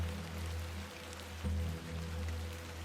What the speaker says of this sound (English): A bit of rain won't kill me,